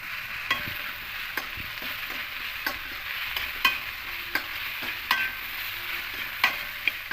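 Banana stem being stirred with salt in a hot pan, with a spatula scraping and knocking in a regular rhythm over a soft continuous sizzle, close and without voices.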